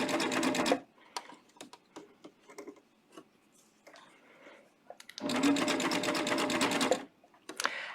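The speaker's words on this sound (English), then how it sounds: "I'm going to sew over those stitches" A coverstitch sewing machine hems knit fabric in two loud, steady bursts of rapid stitching, one at the start and a longer run later, with quieter ticks and handling clicks between them.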